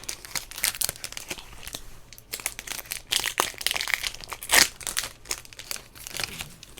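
A Magic: The Gathering booster pack wrapper for Adventures in the Forgotten Realms is crinkled and torn open, a close run of irregular crackling rustles and sharp rips, no talking.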